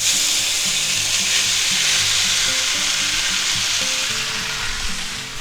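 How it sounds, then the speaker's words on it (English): Shin ramen noodles crackle and sizzle in hot oil in a pan for a shrimp chow mein, a dense, bright hiss that stays loud and constant throughout with faint stirring underneath and no talk. "we'll take our nice Shin ramen noodles and we'll go ahead and put them right in there"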